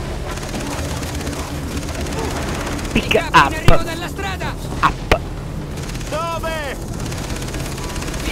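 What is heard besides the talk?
gunfire in a video game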